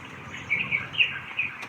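Crows call from close by in hot outdoor weather, a quick series of four or five short, sharp calls, fairly faint over a quiet background.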